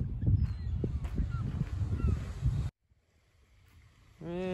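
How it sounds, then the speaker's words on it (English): Geese honk across a New Jersey bay beach at low tide, a loud, crowded chorus over steady wind and water noise that cuts off abruptly, followed by near silence and then a brief tonal sound. "look at all the birds."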